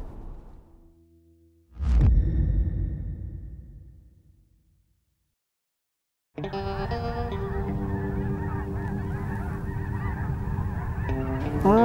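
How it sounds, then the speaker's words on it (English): Geese honking as they fly back to roost during a waterfowl hunt, a loud burst of calls after a sharp whoosh, then a long chorus of many honking birds after a brief silence. "I'm seeing geese go back to roost."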